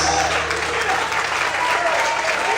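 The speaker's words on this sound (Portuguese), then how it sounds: "Tem que ser mais forte as palmas." A church congregation claps together during an evening worship service, loud, continuous clapping filling the room, with a faint voice in the background.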